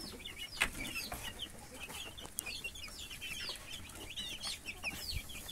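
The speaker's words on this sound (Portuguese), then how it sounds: "a gente tá tratando, fazendo o nosso tratamento com nossos franguinhos caipira aí," Free-range chickens cluck and chirp steadily at close range during feeding, with several overlapping calls, a few sharp peaks and a continuous low background rumble.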